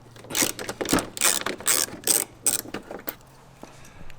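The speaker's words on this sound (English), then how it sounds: "change out our socket to a 10mm socket and remove this bolt" A hand ratchet fitted with a 10mm socket backs out a bolt on a Jeep Wrangler JL during an auxiliary switch install, giving a run of crisp, close clicking bursts in uneven rhythm, with no talk.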